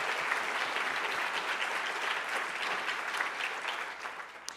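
Steady, full audience applause at a literary awards ceremony, a dense even wash of clapping from a large crowd throughout, easing slightly at the end.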